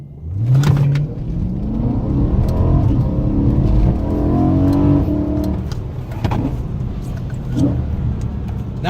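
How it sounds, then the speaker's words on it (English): A BMW M3 E90 launching from a standstill and accelerating hard, its engine note climbing steadily through the revs, loud and close with no talking. "And now I will be slightly launching this car."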